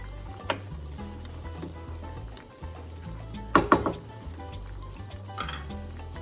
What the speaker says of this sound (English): Put the top on and cook the pork to almost done